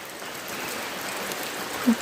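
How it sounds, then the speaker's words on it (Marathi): Soft, steady patter of light rain, a continuous hiss with faint scattered drops and one brief low bump near the end. "अशा पद्धतीने रिमझिम स्वरूपात आहे"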